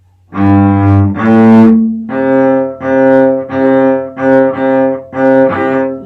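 Bowed double bass playing a short rising figure of low notes, G then A, then repeated strokes on a higher C, each firm and resonant.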